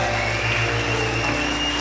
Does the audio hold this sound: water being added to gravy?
no